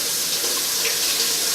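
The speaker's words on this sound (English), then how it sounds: "we're gonna actually pour that in there" Beef jerky marinade liquid pouring into a plastic bag, a steady close splashing gush of water-like liquid running continuously without a break.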